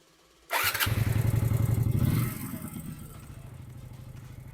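A 1999 Suzuki Intruder motorcycle engine, freshly filled with new oil, cranks and fires, roaring up loud and close before dropping to a steady idle.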